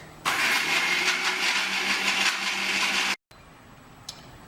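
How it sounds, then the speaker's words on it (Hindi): An electric grinder pulverises whole spices for mutton korma in a loud, harsh whir that runs about three seconds and then cuts off abruptly. Quiet room tone and one faint click follow, with no talking. "अब इन तीनों चीज़ों को हम जो है ग्राइंड कर लेंगे।"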